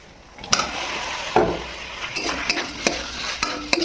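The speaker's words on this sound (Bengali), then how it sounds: "ভালো করে মিশিয়ে নিতে হবে এইভাবে।" Potatoes being stirred into a pan of spices with a little water, a steady scraping sizzle broken by several sharp clicks and knocks of the spoon against the pan.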